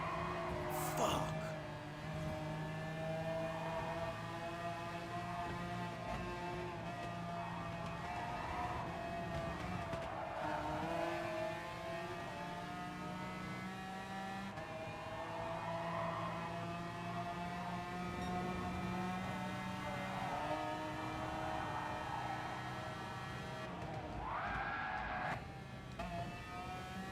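Video game race cars roar around a track in a sustained, layered engine drone whose pitch rises and falls with gear changes, while a voice talks over the racing throughout.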